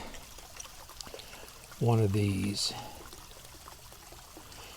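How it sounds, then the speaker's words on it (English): Water from a POPOSOAP solar fountain pump sprays and splashes into a bird bath in a short, loud burst of under a second, with a person talking briefly nearby over steady outdoor background noise. "That's still a little bit tall for my bird bath because it's going to splash most of the water out."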